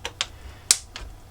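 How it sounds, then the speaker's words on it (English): Plastic clips on an Xbox 360 case give four sharp, separate clicks and cracks, close and crisp, against a quiet background. "lots of clicking, lots of cracking"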